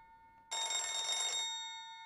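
A black telephone rings once in a Japanese horror adventure game, a single bright, buzzing bell burst of about a second that stops and fades, heard alone in a quiet scene.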